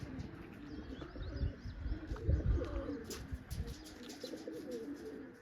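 Pigeons coo in low, throaty rolls close by inside a net enclosure, with lighter bird chirps scattered above and faint rustling throughout.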